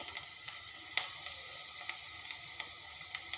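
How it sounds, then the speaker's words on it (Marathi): Garlic paste dropped into softened fried onions in a pan for a spicy stuffed potato masala, giving a soft, steady sizzle with faint crackles and light ticks at close range, no voices. "कांदा छान असा मस्त परतून झाल्यानंतर मी त्यामध्ये लसणाची पेस्ट सोडते"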